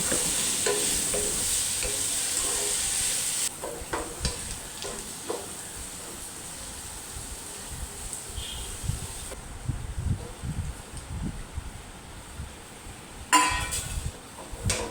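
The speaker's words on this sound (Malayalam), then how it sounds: "കുന കുന അരിഞ്ഞതൊക്കെ നമ്മളങ്ങനെ മൂപ്പിക്കാൻ ഇട്ടിട്ടുണ്ട് അതിലേക്ക് കുറച്ച് ഉപ്പും ചേർത്ത് കൊടുക്കുന്നുണ്ട്" Finely chopped ingredients fry in a pan with added salt, giving a steady close sizzle with occasional stirring scrapes and light clinks, quieter in the middle before a brief louder burst near the end.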